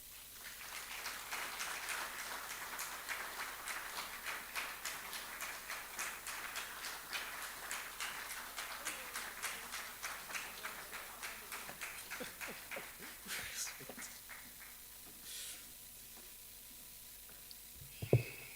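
A seated audience claps steadily for a panelist at a forum on a just transition in Nigeria, a dense, even patter of hands lasting well over ten seconds before thinning out into a few scattered claps.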